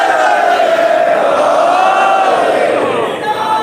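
A large gathered crowd at a religious gathering raises a sustained, loud unified chant of slogans in response, voices merging into a steady roar that holds for several seconds before easing slightly.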